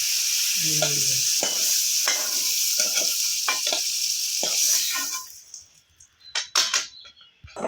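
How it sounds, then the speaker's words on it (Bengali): Dried hilsa fish frying in a pan, a loud close sizzle with spatula scrapes and stirring clatter that drops to quieter clinks near the end. "ইলিশ শুকিটা ভাজা হয়ে গেছে"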